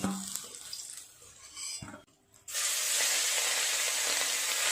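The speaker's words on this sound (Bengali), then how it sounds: "তুলে নিয়ে চিংড়ি মাছগুলোকেও আমি ভাজা করে নেব।" Shrimp frying in a pan after bitter gourd has been fried: faint kitchen clatter, a brief hush, then a sudden loud, steady sizzle of hot oil that holds to the end.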